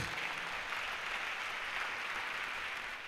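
A church congregation applauding in worship, a dense, continuous wash of many hands clapping at an even level without a break.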